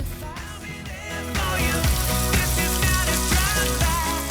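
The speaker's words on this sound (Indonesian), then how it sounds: "goreng biar bisa langsung dimakan Besti" Pastel and risoles fry in hot oil, giving a loud, steady, close sizzle with crackling bubbles that continues throughout.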